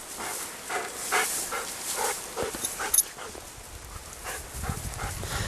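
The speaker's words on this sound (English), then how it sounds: "Here are my dogs sniffing around" Dogs sniff around an old tree outdoors in the Rocky Mountains, with soft snuffling and faint whimpers over a steady windy outdoor hiss; no talking.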